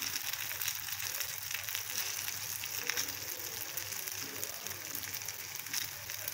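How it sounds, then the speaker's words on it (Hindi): Potato sticks frying in oil over medium-low heat, a faint, steady crackling sizzle throughout with soft bubbling, no speech over it. "आपने इनको फ्राई मीडियम से स्लो आंच पे करना है, बहुत ज़्यादा हाई पे नहीं करना"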